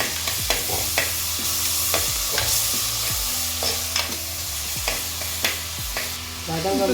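Onions frying in a pan with a steady hiss of oil while a utensil stirs and knocks against the pan in repeated strokes, close and fairly loud, with no talking.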